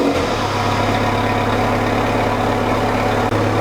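A Volkswagen Mk3 GTI idles on its original stock exhaust, a loud, steady, even rumble heard up close for a few seconds.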